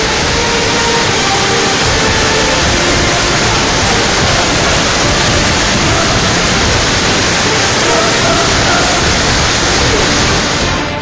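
A river waterfall roars in a dense, steady wash of loud broadband noise, unbroken from start to finish with no voices.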